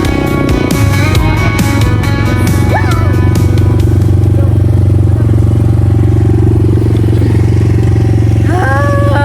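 An ATV engine revs steadily during a ride in Zambales, a loud, continuous mid-pitched drone with rattling clatter and brief whining rises, while voices are heard over it.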